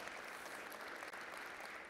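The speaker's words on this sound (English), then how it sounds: "Round of applause." Applause from a conference audience at a .NET MAUI developer session, a steady, dense wash of clapping that holds through the whole stretch with no voices over it.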